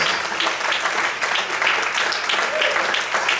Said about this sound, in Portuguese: Aplauda o Senhor e glorifica a Deus por isso